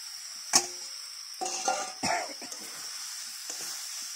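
Young jackfruit pieces tossed into a frying spice masala give a soft sizzle, punctuated by a few scraping and clattering stirs of a spatula against the pan.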